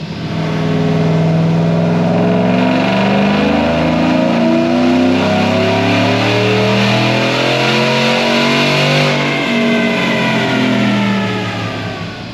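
A Procharged Chevrolet Silverado with a 5.3 engine revs hard during a pull, its loud, close engine note climbing steadily through the gears for several seconds with rising and falling harmonic sweeps and no talk.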